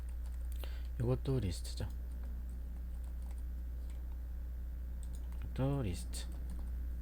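A computer keyboard clatters with steady, close typing as a word is entered into HTML code, the quick key clicks running under someone speaking Korean.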